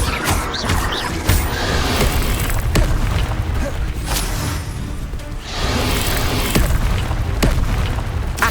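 Repeated magic spell blasts and fiery bursts from combat in Hogwarts Legacy, loud booming impacts with whooshes recurring every second or so in a dense, continuous barrage.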